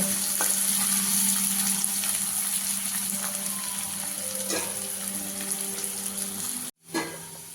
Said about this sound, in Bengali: সুন্দর করে বেরেস্তাটা ভাজা হয়ে গেছে, সুন্দর পেঁয়াজগুলো লাল হয়ে গেছে।